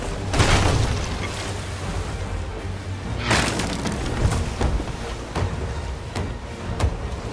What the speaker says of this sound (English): That's all my cannons!